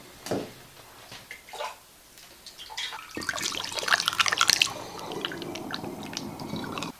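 Sugar syrup made from 1 kg of sugar and 1 litre of water is poured into a bottle to measure out one litre. A few faint drips come first, then a fuller trickling, gurgling pour runs steadily to the end.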